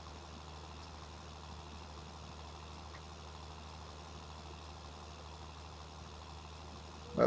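A tractor engine idles steadily in Farming Simulator 19 as a low, constant hum that holds even throughout, with a brief louder bump right at the end.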